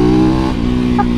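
A dual sport motorcycle engine revs loud and close, a steady low droning tone with its pitch shifting partway through, carrying on without a break.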